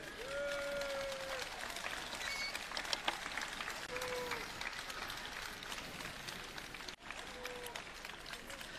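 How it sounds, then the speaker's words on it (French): Audience applauding a participant at a large cooking class, a sustained crowd clapping with a dense, steady texture, mixed with faint voices and brief tonal sounds rising above it. "on peut applaudir Lionel"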